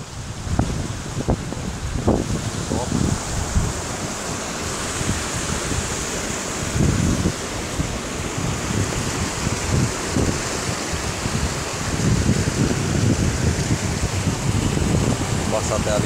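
Wind gusting over a microphone beside the rushing Mucugezinho river among rocks in Chapada Diamantina, Bahia, a continuous roar of moving water and buffeting air with no voices.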